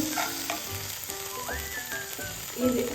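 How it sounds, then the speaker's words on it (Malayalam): Spice powders and a pinch of turmeric sauté with wilting vegetables in a pan for an egg curry, a steady close sizzle with light stirring scrapes and faint background sounds; no talking. "ഇതിലൊരു നുള്ളു മഞ്ഞൾപ്പൊടി ചേർത്ത് ഞാൻ ഇത് ഓഫ് ചെയ്യാം"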